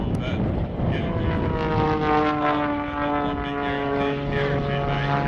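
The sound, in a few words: aerobatic airplane engine during airshow maneuver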